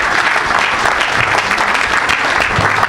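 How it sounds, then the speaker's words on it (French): Worshippers at a church service break into continuous applause in thanks to Jesus, many hands clapping in a loud, even roar that carries on without pause. "Est-ce qu'on peut dire merci à Jésus par nos acclamations?"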